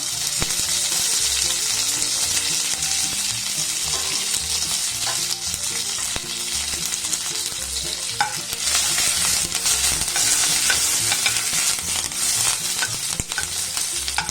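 Curry leaves crackle and fry in hot oil for a horse gram curry, a dense, steady sizzle with scattered pops and spoon stirring throughout, close and loud with no voices.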